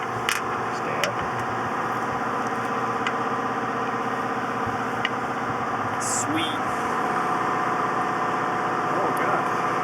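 A procharged C7 Corvette Z06 with an F1A-94 supercharger runs at a steady, close idle, a constant engine hum with faint whine overtones, while people chat over it.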